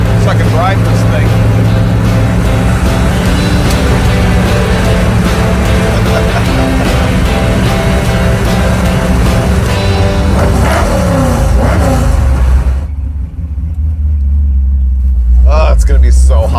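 A Ford muscle truck drives with its windows down, a loud, steady engine rumble mixed with heavy wind buffeting, while people talk over it.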